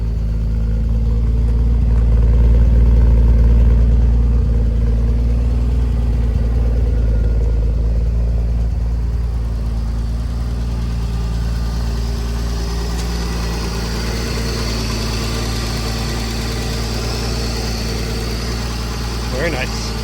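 Car engine idling on choke after a cold start on a cold day, a steady low rumble with a quiet exhaust note that eases slightly over time, while a person talks nearby.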